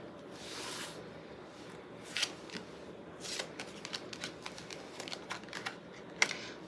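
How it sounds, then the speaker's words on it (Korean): Tarot cards shuffled and drawn close to the microphone: a soft, steady riffling with crisp flicks and taps as individual cards slide free, quiet and without talk. "추가 카드를 한번 뽑아보겠습니다."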